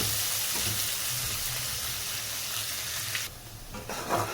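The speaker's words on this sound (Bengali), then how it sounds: "এবারে পেঁয়াজ কুচিগুলো দিয়ে দেবো। দিয়ে গোল্ডেন ব্রাউন হওয়া অবধি এটাকে ফ্রাই করব।" Chopped onions fry in hot oil in a pan for a Bengali katla fish kalia, giving a steady, close sizzle with light stirring scrapes that grow slightly softer near the end.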